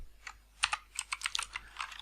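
Quick, irregular keystrokes on a computer keyboard while code is typed, close and fairly soft, with short pauses between clusters of clicks.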